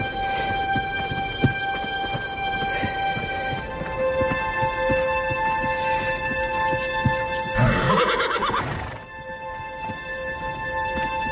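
A horse whinnies in a long, loud neigh near the end, with hoof clip-clops and ambient noise beforehand, close by.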